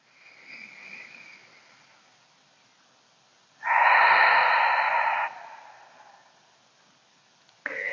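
Deep yoga breath: a soft inhale, then a loud, full exhale lasting over a second, followed by quieter breathing with no talk.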